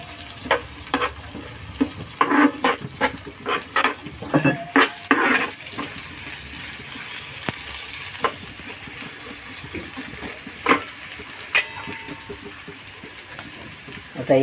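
Cumin and mustard seeds crackle and sizzle in hot oil for zunka, with a steady frying hiss broken by sharp pops and spoon stirs against the pan, densest early on and thinning out later.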